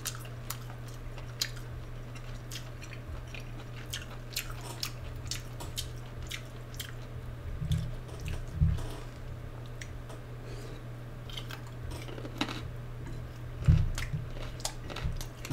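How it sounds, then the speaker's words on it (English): Close-up wet chewing and biting of boiled beef tripe during an eating session, with soft squishy clicks and smacks scattered throughout over a constant low background hum. "The tripe is a little chewy."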